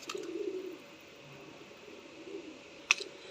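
Pigeons cooing softly in low murmuring phrases, faint and intermittent, with a single sharp click near the end.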